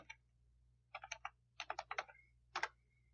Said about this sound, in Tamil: அடுத்து செகண்ட் நேம் இருக்கிற இடத்துல செகண்ட் நேம் டைப் பண்ணிக்கிறேன்.